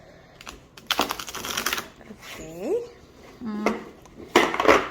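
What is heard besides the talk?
shuffling a Druid Craft tarot card deck by the corners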